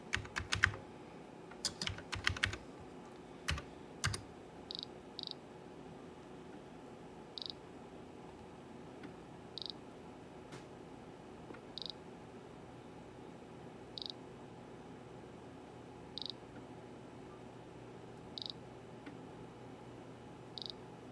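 A Pi1541 emulated Commodore disk drive loading a program gives off a burst of rapid clicks and seeks, then settles into faint, evenly spaced short ticks every couple of seconds over a quiet background hiss.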